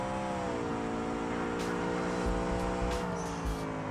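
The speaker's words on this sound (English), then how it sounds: "So let's see if we can rev it up here." A car engine revving high in the BeamNG driving game, a steady, loud sustained drone that climbs slowly in pitch over a few seconds with no pauses.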